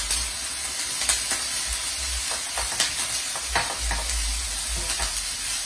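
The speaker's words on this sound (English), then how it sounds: "I'm going to go ahead and add some of this gochujang, Korean red pepper paste sauce that we made earlier." Locusts stir-fry in a pan with Korean gochujang red pepper paste sauce, giving a steady close sizzle broken by repeated scraping and stirring knocks, with no voices.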